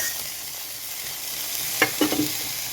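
Vegetable soup seasoned with black pepper being stirred in a pot: a faint steady background hiss, then a brief cluster of soft spoon scrapes and taps near the end.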